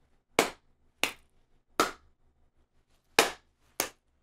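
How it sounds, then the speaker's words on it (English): Five louder, sharp hand claps in an uneven series, each a crisp cracking hit with a short decay, standing alone against a quiet background. "Slightly louder clap."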